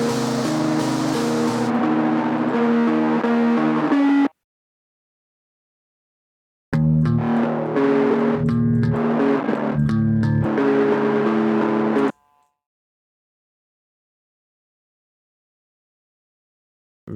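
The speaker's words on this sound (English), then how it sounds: "Radio effect, or kind of like old rock songs." A bass guitar runs through a bandpass, mid-frequency-only mono radio effect, giving a thin, boxy tone in two loud sustained passages separated by several seconds of silence.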